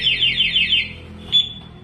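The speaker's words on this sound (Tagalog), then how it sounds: "Pangalawang attempt po ng magnanakaw, mag-a-alarm po siya sa remote, pati po sa motor" A Honda ADV 160's two-way anti-theft alarm sounds up close, a loud rapid warbling siren of repeated sweeping chirps, then a brief high beep after a short pause.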